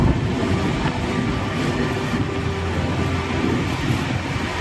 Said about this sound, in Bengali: এখন ট্রেন ঢুকছে শিলিগুড়ি জংশন।